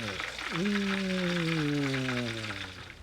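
Catfish steaks frying in hot oil with a dense continuous sizzle, while a voice holds a long sliding hum over it.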